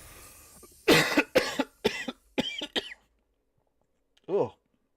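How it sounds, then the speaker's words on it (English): A sudden cough attack from a man streaming live, a burst of five or six harsh, close coughs in quick succession, then a pause and one last smaller cough. No speech is heard during it. "I just got a cough attack right there."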